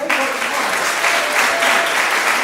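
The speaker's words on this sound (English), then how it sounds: "I want you to give this group a huge round of applause." Concert audience applauding a performing group at a masterworks concert, a dense, steady wash of clapping that fills the short span at a loud, even level.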